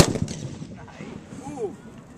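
A Renaissance matchlock gun fires once, a sharp bang at the start followed by a rumbling echo that fades outdoors, with faint crowd sounds after.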